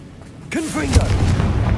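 Confringo, the explosive fire spell from Hogwarts Legacy, erupts in a loud whooshing boom with a swooping tone and a rumbling tail, and a voice calls out over the blast.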